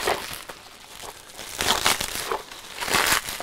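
Plastic parts-pack packaging from a 1960 P.A.B. Barns Bricks set being cut open with makeshift tools, heard as close crinkling and crackling bursts of stiff plastic that swell louder toward the end.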